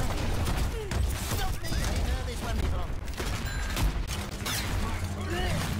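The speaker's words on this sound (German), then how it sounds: "ich habe gerade geschossen und Trace ist auch von meinem Schuss reingefahren" Rapid gunfire bursts from an Overwatch match, dense and steady throughout with sharp impacts and clatter under game effects, alongside occasional player voices.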